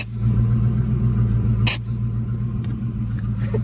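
A drag racing car with a nitrous system hooked up idles in a steady, loud low rumble, with a sharp hissing burst of the nitrous purge near the middle and a fainter hiss near the end.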